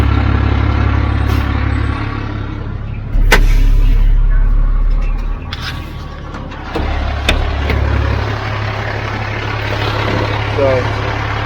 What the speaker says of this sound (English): backing in right beside Steve's pickup truck, right up to the edge.